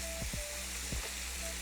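Thinly sliced steak for a Korean steak bowl sizzling in a pan, a steady close hiss broken by a few quick scraping sweeps as pieces are spread out, no talking.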